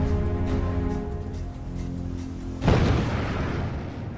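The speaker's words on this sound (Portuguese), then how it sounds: "Uma explosão maior ainda destrói o prédio que abriga o reator número 3." A sudden deep, heavy boom from a hydrogen explosion destroying the reactor 3 building at the Fukushima nuclear plant bursts out partway through, rumbling loudly over a steady droning background and lingering as a noisy roar.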